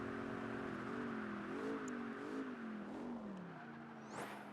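Sluggish car engine pulling hard in sixth gear in Project Gotham Racing 3, a steady droning whine that rises and wavers in pitch, ending with a brief higher swoop, loud and continuous with no talk.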